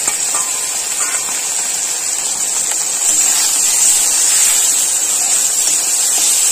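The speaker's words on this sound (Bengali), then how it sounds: "লাটা মাছ একটু ভালোভাবেই ভেজে নিতে হবে।" Lata fish sizzles in hot oil, a loud continuous hiss that stays even and close for the whole stretch, with a slight swell partway through.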